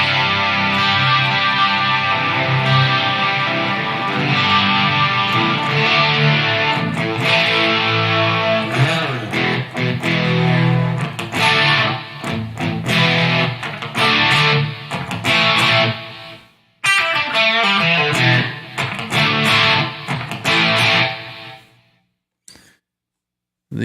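A heavily distorted electric guitar plays chunky riffs and sustained chords with a crunchy, overdriven hot-rodded Marshall-style amp tone, ending in choppy stabs and brief silences.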